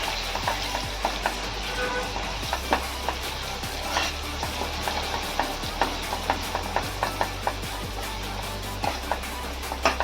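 Yogurt gravy masala being stirred into mutton biryani in a cooking pot, with a steady sizzle and scattered scraping clinks of the spoon against the pot, close and continuous, with no one speaking.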